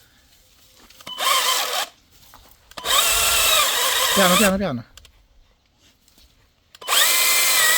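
A Parkside PGHSA 20-Li B1 20V cordless mini chainsaw whines through wood in three loud bursts separated by quiet pauses, with a voice speaking briefly in between.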